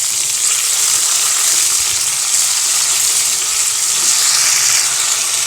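Tomatoes sauté in a hot pan for a kuzhambu, a loud, steady frying hiss close by that holds evenly throughout without pauses.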